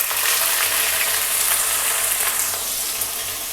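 Onions sizzle in hot mustard oil with cumin seeds and chillies, a steady dense frying hiss with small pops and crackles, close and continuous throughout.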